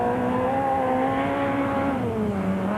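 A Volkswagen S2000 rally car engine pulls hard at high revs during a 2006 rally, a continuous buzzing, harmonic drone that holds steady and then sags slightly near the end.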